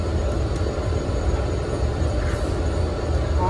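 A train idles at a station with a steady low rumble and hum, loud and continuous, with faint squeals and clanks on top and nobody talking.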